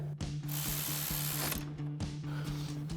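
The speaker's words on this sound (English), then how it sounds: "And we'll tighten that down with our 10 mil socket on our ratchet." Socket ratchet with a 10 mm socket tightening a factory 10 mm screw during a lowering-spring install on a 2016-2024 Camaro, giving a steady run of close, evenly spaced clicks over about three seconds.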